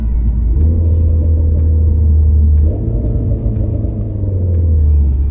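Renault Mégane 4 RS engine giving a deep, steady rumble from inside the car while driving, with a slight shift in pitch midway, loud and close with no talk over it.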